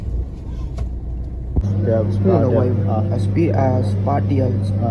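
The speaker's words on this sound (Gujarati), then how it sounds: "વાવ, પાર્ક થઈ રહી છે અત્યારે અમારી ઓડી" An Audi is being parked, its low engine hum steady beneath excited talk from people nearby.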